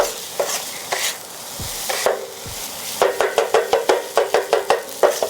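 Beaten egg seasoned with black pepper and salt stirred in hot oil for homemade chicken fried rice: a crackling sizzle under a few spaced scrapes, then a fast run of rhythmic utensil scraping strokes, close and fairly loud.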